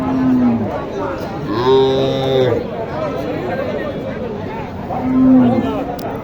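Cows moo loudly nearby at a cattle market, three drawn-out calls spaced apart, amid the chatter of a crowd and people talking.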